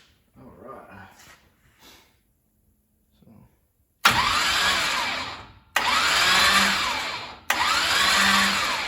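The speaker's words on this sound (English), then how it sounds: "Now we're gonna spin it over a few times without the ignition on or spark plugs to get that oil pump primed up." A race car engine is cranked over without ignition or spark plugs to prime the oil pump: after a few seconds of quiet voices, three loud, whirring starter bursts of about one to two seconds each, separated by short breaks.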